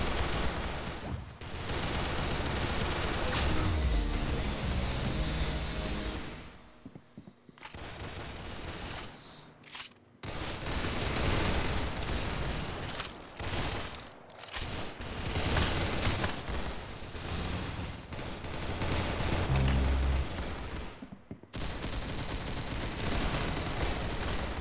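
Dense gunfire from a shooter video game, with rapid machine-gun bursts and overlapping shots filling most of the stretch, loud and continuous apart from a few brief gaps.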